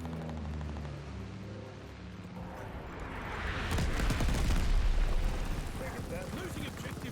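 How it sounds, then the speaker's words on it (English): Friendly bombing-run explosions in Call of Duty: Vanguard, a swelling, rumbling series of booms rising midway and holding loud before easing slightly, with a voice talking over the start. "Friendly bombing run on the way."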